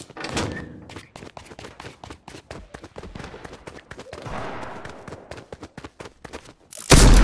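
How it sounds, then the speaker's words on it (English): Repeated heavy thumping axe strikes in the video game Fortnite, rapid and percussive, mixed with gunfire-like impacts and a loud burst near the end. "He's just cranking with his axe"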